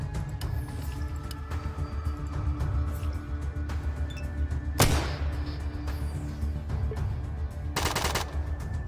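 SMG and shotgun fire in the ATOM RPG video game: a single sharp blast partway through, then a dense rapid burst near the end, over a steady low background.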